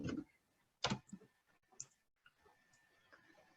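Keyboard typing sounds as a few scattered, quiet clicks and taps, one sharper burst of keystrokes, then faint irregular ticks over a low room hum.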